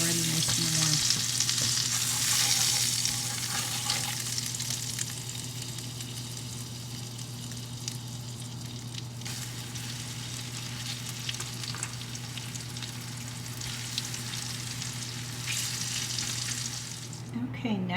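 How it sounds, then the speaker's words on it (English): Butter and oil sizzle in a warm frying pan over medium heat, a steady crackling fry with occasional stirring and a faint running tap at moments, continuous and close. "Continuing on with my heat at medium, tablespoon of butter, tablespoon of oil."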